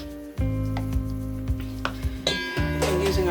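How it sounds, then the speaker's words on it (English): Deep hair conditioner mixture with an applesauce-like consistency being stirred, close scraping and clinking of a utensil against a bowl in uneven strokes over a steady humming background, with no talk. "Stir that in for a little bit."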